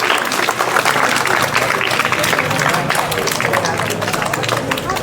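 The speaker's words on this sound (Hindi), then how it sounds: "तालियां नहीं रुकनी चाहिए" Students at a school toppers' award ceremony clap continuously, a dense, loud roll of applause from a large crowd that holds steady throughout, with murmuring voices underneath.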